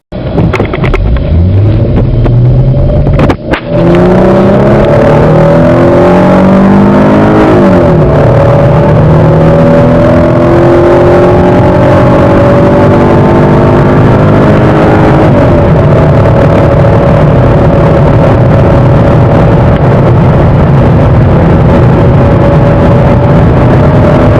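A 3.5-liter Chrysler 300 sedan accelerating hard, engine pitch climbing steadily through several gear changes over about twenty seconds, loud and close with steady road and wind roar beneath.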